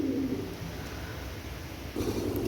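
A pair of pure KTM pigeons coos in low, rolling bursts close by, one run at the start and another near the end, with a quieter stretch between and no voices.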